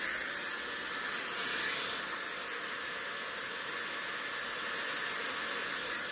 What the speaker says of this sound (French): on va juste chiffonner les cheveux dans le diffuseur, puis on la laisse sécher comme ça